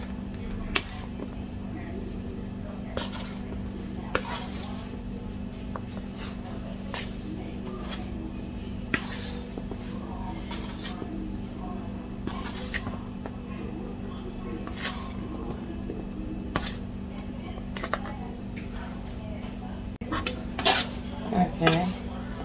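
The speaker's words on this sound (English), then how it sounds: "now I'm mixing the cherries in the flour so that it'll help them from not sinking as bad" Cherries tossed and stirred in flour inside a bowl for a cherry-studded Shirley Temple cake, with a steady run of soft clinks and scrapes from a utensil against the bowl over a constant low kitchen hum.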